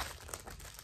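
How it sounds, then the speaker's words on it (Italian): A small plastic bag crinkles softly and continuously at close range, a faint rustling scrunch with no talk over it. "è arrivato Luca con sto sacchetto"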